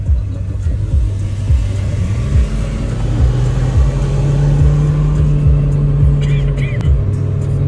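An old car accelerates, its engine note climbing and holding in a steady drone with road rumble, close and loud, while people talk over it.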